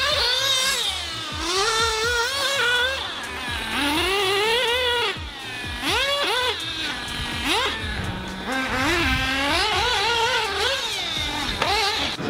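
A Nitro MP9 ReadySet 1/8-scale nitro RC race buggy lapping a track, its high, buzzing engine repeatedly revving up and dropping as it bogs down through a tight turn, continuous and fairly close.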